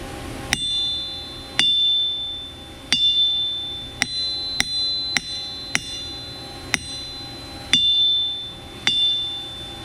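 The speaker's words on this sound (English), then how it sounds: "Well, it rings like an anvil." A 250 lb machined steel anvil, its top face still rough and unfinished, struck about a dozen times in an uneven rhythm, each sharp metallic hit leaving a bright, sustained ringing tone that hangs between blows, close and clear with no talking.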